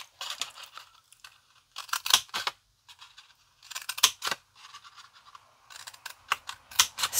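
Scissors or a blade cutting along lines on faceted vase pieces, giving close, crisp scratchy snips in irregular bursts with short quiet gaps between them.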